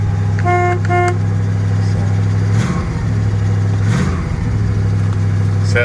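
A 1967 Oldsmobile Cutlass Supreme convertible on its standard exhaust idles with a loud, steady low rumble, broken by two short horn toots near the start and a couple of brief blips of revving partway through.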